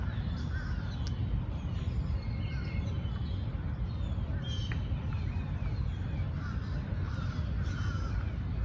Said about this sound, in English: Oh, hear all the birds?